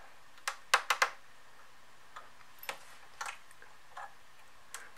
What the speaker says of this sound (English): Quite an ominous hearing the keyboard creaking as I try and lift this pin off.